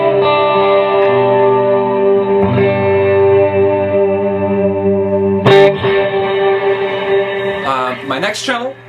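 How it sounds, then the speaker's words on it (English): Worship-rig electric guitar swell channel, run through a Centura and Morning Glory overdrive with long-tailed Timeline delay and Big Sky reverb; sustained volume-swelled chords bloom with a chorus-like shimmer and echoing tails, then a brief sharper strum and wobbling notes near the end. "My next channel is my swell. So I've got my Centura, the Morning Glory, and then Big Tails on my timeline and my Big Sky."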